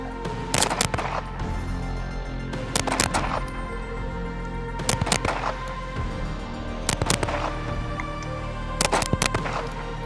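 Handgun with a red dot sight and compensator firing quick strings of loud shots, four rapid bursts of two or three reports each spaced a couple of seconds apart, over steady outdoor background hum.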